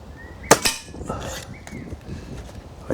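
A single sharp crack from a Weihrauch HW110 grey laminate PCP air rifle, close and loud, followed by a quieter metallic clack and faint handling noises.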